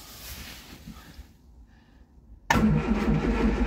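A Triumph Spitfire engine, choke pulled out, turns over with a low, muffled rumble, goes nearly quiet, then abruptly catches into a loud, close, rough running roar.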